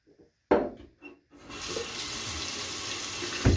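Tap water running while rinsing off after a shave: a few soft bathroom knocks and clatters come first, then a faucet gushes on and pours steadily into the sink at close range until the end, with a small thump at the close.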